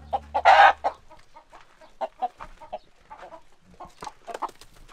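Hens on a village farm in rural Uzbekistan cluck in short, scattered bursts close by, with a louder squawk near the start and quieter clucks following.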